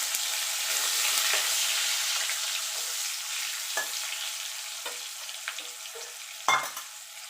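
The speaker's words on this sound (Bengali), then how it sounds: "এই তেলে আমি সবজিগুলো ভেজে নেব। আগে আলুটা ভেজে নেব।" Potatoes fry in hot oil after fish heads, a steady close sizzle with soft crackle and occasional stirring clatter, one sharper knock near the end.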